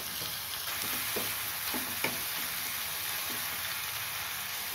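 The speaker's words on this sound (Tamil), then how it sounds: "உருளைக்கிழங்கு 2 நிமிஷம் வதங்கணும்." Potato pieces for a Tamil coconut dal curry sauté in a pan with a steady, close sizzle, joined by a few light stirring scrapes, and no voices over it.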